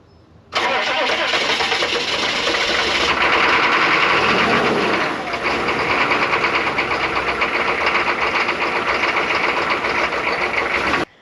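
A 1995 6.5L turbo diesel engine cranks and fires after a brief quiet moment, then runs roughly and loudly with a steady clattering rumble that dips briefly midway before settling.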